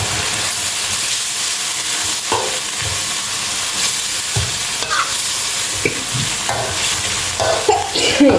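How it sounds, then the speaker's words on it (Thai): Pork sizzles loudly in a hot pan as it is stir-fried with chili curry paste. The frying hiss is steady and close, broken by scraping stirs of the utensil against the pan. "ใส่หมูลงไปผัดเลยค่ะ"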